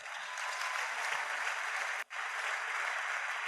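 A church congregation claps steadily during a Sunday worship service, with dense, sustained applause filling the room and a brief momentary drop near the end before the clapping resumes.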